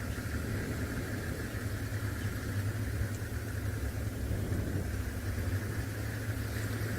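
A safari vehicle's engine idles steadily and close by, a constant low mechanical hum and rumble with even vibration, holding unchanged for several seconds with no talking.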